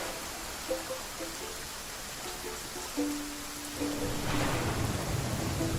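Steady rain hissing in The Flame in the Flood, loud and continuous, with a low thundery swell toward the end and small tonal game cues on top.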